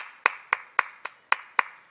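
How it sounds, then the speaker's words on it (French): People clap in unison at the end of a HIIT workout session, six sharp, evenly spaced claps about a quarter second apart, close and crisp with nothing else around them. "et on s'applaudit."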